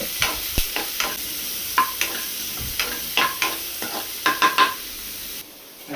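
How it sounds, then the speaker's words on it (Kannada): Onions frying with mustard seeds in a home kitchen pan, a close sizzle broken by repeated sharp spoon-scraping strokes in an irregular rhythm, no talk. "ಸ್ವಲ್ಪ ಸಾಸಿವೆ ಹಾಕಿದ್ಮೇಲೆ ಈರುಳ್ಳಿನ ಸ್ವಲ್ಪ ನೀಟಾಗಿ ಫ್ರೈ ಮಾಡ್ಕೊಬೇಕಾಗತ್ತೆ."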